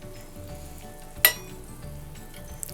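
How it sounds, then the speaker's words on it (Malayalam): Masala frying in a pan for egg biryani gives a soft continuous sizzle, and eggs go in with one sharp clink against the pan partway through. A fainter tap follows near the end, with no voices. "ഇനി ഇതിലേക്ക് നമ്മൾ എടുത്തു വെച്ചിരിക്കുന്ന മുട്ട ഇട്ട് കൊടുക്കാം"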